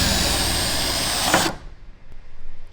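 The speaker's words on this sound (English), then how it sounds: "we gotta get the drill out, drill holes, and then they go into the factory bolts" Power drill boring holes into a BMW car body, a loud steady whine for about a second and a half that cuts off abruptly, followed by quieter shop noise.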